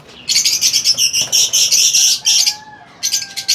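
Rapid high-pitched chirping from a young bird repeats in quick bursts, loud and close, with a brief pause before more peeping.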